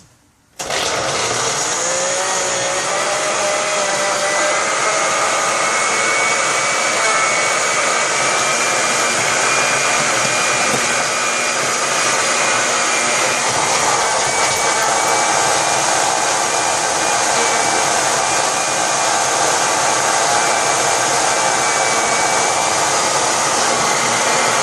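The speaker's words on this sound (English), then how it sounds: "Now we're gonna blend it up." A blender whirs loudly and continuously, churning raw vegan fudge ingredients, a steady high-pitched motor roar that starts abruptly and holds without pause.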